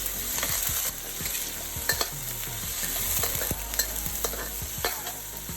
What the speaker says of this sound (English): Make sure you cook the potato all the way through.